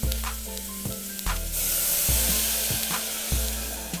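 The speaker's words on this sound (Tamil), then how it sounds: "தண்ணி ஊற்றிக்கோங்க." Water poured into a hot pan for goat leg soup hisses into a loud, sustained sizzle close by, with a few soft knocks of the pan, and no talking.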